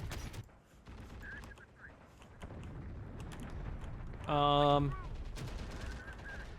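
Siege units firing in the Terminator Dark Fate Defiance real-time strategy game: a loud, sharp burst of harmonic blasting near the middle, amid scattered distant gunfire and battle effects, with talking across the scene.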